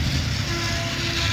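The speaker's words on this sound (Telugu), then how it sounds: "సో ఇప్పుడు మనం ట్రైన్ అయితే ఆన్ చేద్దాం ఒకసారి" A battery-powered Centy Indian toy train runs along its track with a steady, continuous mechanical whir and rattle, loud and close, with no voices.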